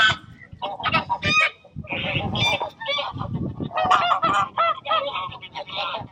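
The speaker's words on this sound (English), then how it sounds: "Geese. Big geese." Big geese honking loudly and repeatedly at a lakeside fishery during a fishing match, a noisy overlapping chorus of calls that runs through the whole stretch with no talk.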